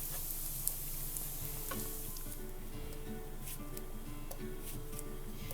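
Sliced onions and tomato sautéing in a pan, a steady close sizzle with a few light stirring clicks and scrapes, and nobody talking.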